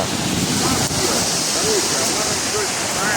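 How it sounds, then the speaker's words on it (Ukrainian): Small sea waves washing onto a beach in Italy on a morning outing, a steady loud hiss and wash of surf mixed with wind buffeting the microphone, with faint voices in the background. "Трошки хвиля сьогодні є"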